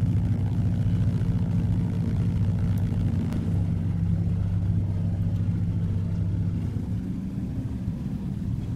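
A Beaver floatplane-style propeller aircraft in X-Plane 11 taxis off the runway after landing, its radial engine holding a steady, loud, low idle rumble throughout.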